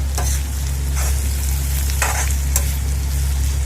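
Oil sizzling steadily in a hot pan as spices are tempered, with a low constant hum underneath and a few sharper crackles.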